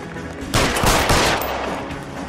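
A burst of gunfire erupts during a police standoff in the L.A. Noire video game, several rapid loud shots running together after a quiet lead-in, then fading into a short echoing tail.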